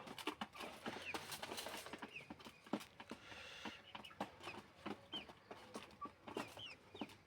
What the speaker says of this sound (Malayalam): എന്താ കോഴി ഒരു വല്ലാതെ